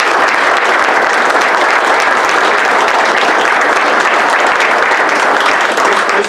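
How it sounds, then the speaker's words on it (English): Sustained, dense applause from an audience at an East Cocalico Township Board of Supervisors meeting, honoring a retiring township policewoman; steady and loud throughout with no talking. "how about a round of applause for her?"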